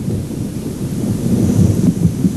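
A thunderstorm brings the wet season's first rain, with deep rolling thunder rumbling loud and continuous over a wash of falling rain, with no voices.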